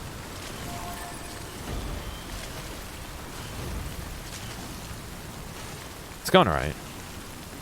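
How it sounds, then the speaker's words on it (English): Steady rainfall in the game Death Stranding, a continuous soft wash of falling water that holds even throughout, broken near the end by a short spoken phrase. "So you can see the rain's picking up."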